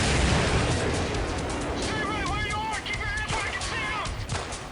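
Explosive blasts and gunfire in the video game Delta Force: Black Hawk Down, Team Sabre, a dense rumbling barrage with warbling tones, while someone talks over it.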